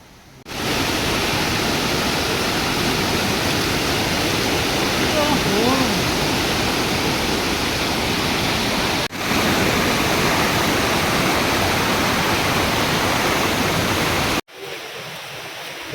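Steady, loud roar of the Dev Kund waterfall in Mayurbhanj, Odisha, a dense broadband rush of falling water that fills the whole clip close by, with only a brief break near the end.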